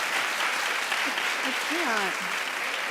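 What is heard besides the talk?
studio audience clapping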